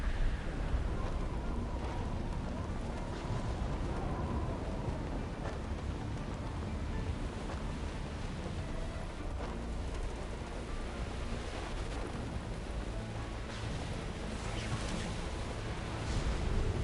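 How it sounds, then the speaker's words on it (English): Steady rain from an approaching thunderstorm roars in the Mass Effect video game, a dense, constant wash of noise with a low rumbling undertone, heard alone and holding at an even level throughout. "Storm's getting closer."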